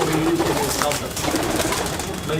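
Malwai pigeons, prized Indian fancy breed, cooing in a loft amid constant background noise, soft repeated coos close by with faint murmuring voices.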